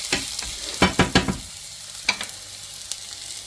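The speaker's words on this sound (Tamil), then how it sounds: "அப்படியே இது வதங்கட்டும் வெங்காயம்" Onions sautéing in a pan for crab soup: a few sharp scraping stirs and light clatters over a soft, steady sizzle, close by with no talking.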